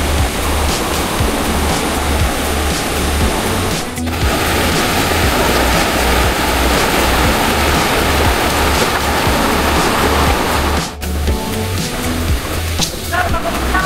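Taytay Falls, a waterfall in the Philippines: a loud, constant rushing roar of falling water that fills the whole scene close by, with a steady low rumble underneath.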